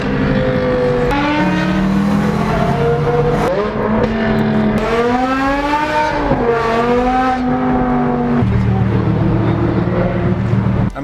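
A manual BMW M5 E60 with its V10 engine and a Meisterschaft F1 exhaust screams close by, rising and falling through high revs with sharp shifts between pulls, loud and continuous.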